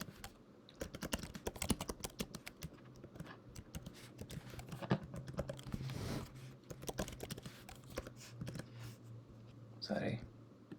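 Code being typed on a computer keyboard produces a close run of quick, irregular key clicks and taps that carry on throughout, with a brief burst of speech near the end.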